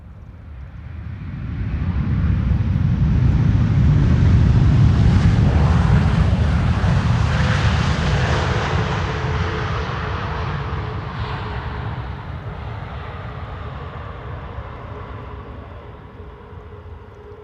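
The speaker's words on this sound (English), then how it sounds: "Delta Airlines Flight 74 arriving from Atlanta" A Delta Airlines jet on its arrival from Atlanta, Georgia, roars loudly through a broad rumbling swell that peaks early, then slowly fades into a steady distant engine drone with no voices over it.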